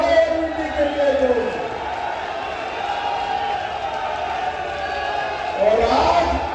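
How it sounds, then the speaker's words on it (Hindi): A large crowd applauds for parliamentary candidate Dr. Arvind at a 2024 Lok Sabha election rally in Jhajjar, Haryana: steady, dense clapping and crowd noise, with a loudspeaker voice heard briefly at the start and end. "ताली बजाओ अरविंद जी के लिए जो।"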